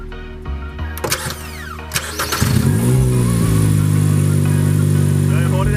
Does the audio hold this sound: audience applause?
no